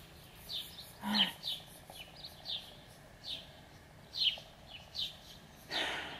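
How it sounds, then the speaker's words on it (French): Birds chirping in trees in short, repeated calls at moderate distance over a faint background hum, quiet and outdoors. "Le son des oiseaux dans les arbres, c'est vachement agréable."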